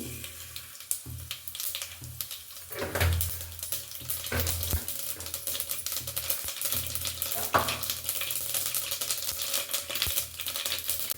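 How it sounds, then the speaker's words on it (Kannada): Mustard seeds and cumin crackle and sizzle in a few spoonfuls of hot oil, tempering for a cucumber and lentil sambar, a steady close frying hiss with scattered pops and a few clinks of stirring. "ಈಗ ಸಾಸಿವೆ ಮತ್ತು ಜೀರಿಗೆನ ಹಾಕ್ಕೊಳ್ತೀನಿ"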